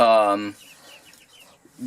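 Chickens and chicks in a brooder on a small farm give a loud burst of clucking at the start, then fall to faint background noise before the clucking returns briefly at the end.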